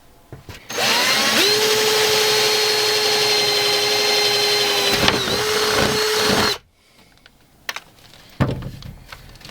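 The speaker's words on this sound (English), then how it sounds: "let's drill the holes again" A power drill boring holes for Peco point motors on a model railway layout, one steady high whining run lasting several seconds that dips briefly under load, followed by faint handling clicks and knocks.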